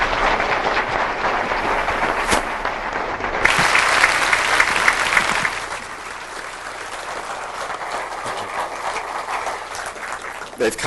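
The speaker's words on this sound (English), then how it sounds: "I would like to just give them a round of applause for being here and joining us" An audience applauds visiting shamans at a 1999 shamanism gathering, a steady wash of clapping that swells briefly and then settles into a softer, continuing patter while a voice speaks faintly underneath.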